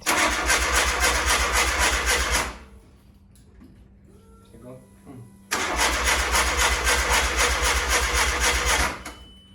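Starter cranking an engine that refuses to start, a loud whirring burst of about two and a half seconds, a quieter pause with small clicks and a faint hum, then a second cranking burst of similar length.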